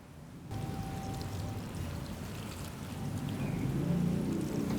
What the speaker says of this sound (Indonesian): Apalagi kalau udah dibantu sama air cucian beras. Nah, ini kita tuang aja.